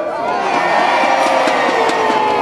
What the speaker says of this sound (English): So let's practice that cheering in one more time.